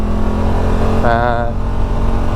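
A 2025 RMAX2 Sport side-by-side's parallel-twin engine drones steadily and fairly loud throughout, with a voice talking over it partway through.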